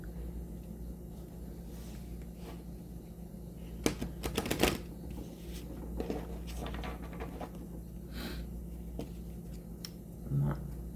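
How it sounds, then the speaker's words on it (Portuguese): Tarot cards shuffled during a card-reading session, a soft riffling patter of card edges with a denser burst of quick flicks in the middle, close and quiet over a steady low background hum. "Vou embaralhar aqui mais uma vez."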